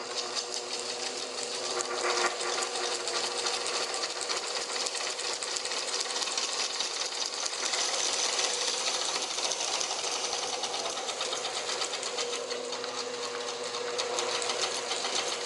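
A restored vintage lathe runs after being plugged in, a steady, busy mechanical whir and rattle that continues evenly throughout without talk.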